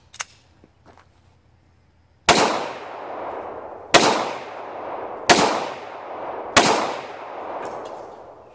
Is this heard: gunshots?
yes